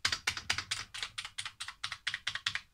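Rapid keystrokes on a computer keyboard, about a dozen crisp clicks in an uneven typing rhythm, close and fairly loud with nothing else heard.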